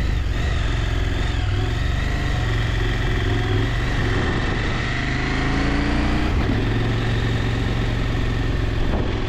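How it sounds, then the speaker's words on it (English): A loud, highly revving motorcycle with a slipping clutch on a road of hairpin corners gives a steady, heavy engine drone that holds throughout with only slight shifts in pitch, close and constant. "a loud and highly revving motorcycle with slipping clutch, but still moving much better than a fault one"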